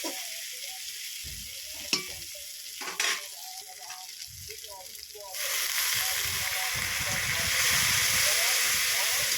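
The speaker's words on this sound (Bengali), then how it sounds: "বন্ধুরা, খুব সুন্দর করে কিছুক্ষণ আমি নেড়ে চেড়ে কষে নেব" Spices being stirred and fried in a pan for a mustard-paste fish dish: scattered scraping knocks at first, then a loud, steady hiss of sizzling that continues through the second half.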